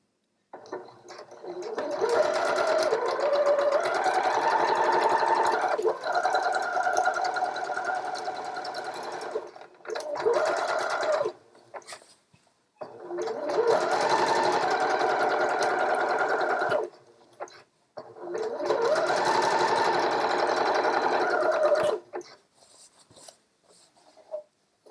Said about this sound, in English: I'm going to place this all under the machine and I'm going to do my zigzag